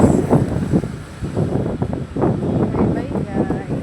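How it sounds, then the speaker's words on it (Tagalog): Wind blows outdoors in gusty buffets across the microphone, rising and falling in waves, with a person talking over it. "Ay, ang hangin. Ang sarap."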